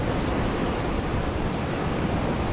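Energetic ocean waves surge at Prachuap Khiri Khan beach, a steady, loud, unbroken roar of surf with wind-like hiss and no voices.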